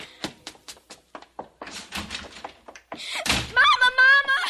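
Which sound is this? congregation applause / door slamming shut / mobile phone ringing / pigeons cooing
door slamming shut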